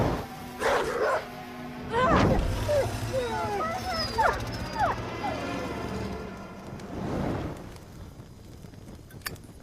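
A dog whimpering and yipping in a Hindi-dubbed South Indian horror comedy film, with a cluster of high whines and yips in the middle, between bursts of speech.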